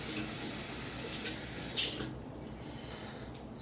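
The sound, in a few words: tap water running to wet a shaving brush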